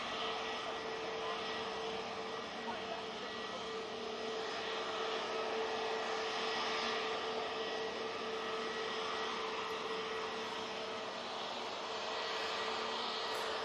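A jet airliner departing Manchester Airport makes a steady, loud engine roar with a sustained tonal whine, holding evenly without a break as it climbs away.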